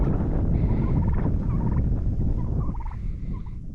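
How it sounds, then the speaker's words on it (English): Chickens clucking on a farm, a steady run of overlapping calls and murmurs set against a constant low rumble of wind or background noise. "I would love to get the other chickens over here."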